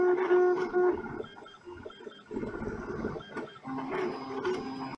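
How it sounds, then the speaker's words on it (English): An Anet A3 enclosed acrylic 3D printer runs on its own, its stepper motors whining in shifting tonal patterns with pauses and bursts of movement, fairly close and moderately loud. "Definitely not a printer that's going to win you points with the family on long overnight prints."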